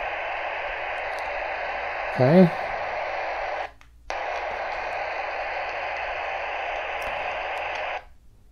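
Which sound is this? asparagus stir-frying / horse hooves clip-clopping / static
static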